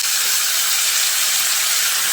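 A paste of ground ginger, green chili and tomato hits hot oil with frying potatoes and pointed gourd, giving a loud, steady, dense sizzle that holds unbroken throughout.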